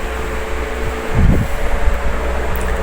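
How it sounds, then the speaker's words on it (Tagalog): A noisy uncovered electric fan runs nearby, giving a steady whirring hum with a mechanical rattle. A heavier rumbling knock rises midway and then settles back into the drone. "So maingay yung electric fan ko."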